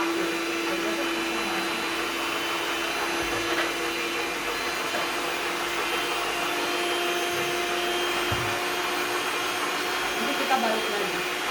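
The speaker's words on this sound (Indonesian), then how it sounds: "Kita akan kocok kurang lebih 5 menit, ya." A hand-held electric mixer beats banana cake batter for bolu pisang tanduk, running as a steady, even motor whine through the whole stretch with no pauses and no voices.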